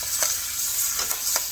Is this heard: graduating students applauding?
no